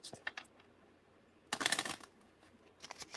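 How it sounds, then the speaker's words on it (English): Deck of playing cards being shuffled: a faint, close riffle burst in the middle of a quiet room, with lighter card flicks before and after. "you're a good shuffler"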